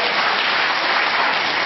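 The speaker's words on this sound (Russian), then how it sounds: "Спасибо за аплодисменты" Audience applause in a live television studio during a political talk show, a dense, steady clapping that fills the whole stretch at close range with no voices over it.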